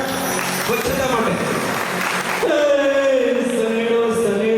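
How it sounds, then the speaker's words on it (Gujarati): Audience applause at a civic cleanliness campaign inauguration ceremony in Bhavnagar, a dense burst of clapping with a voice speaking and singing over it toward the end. "તાળીઓના ગડગડાટ સ્વચ્છતા માટે."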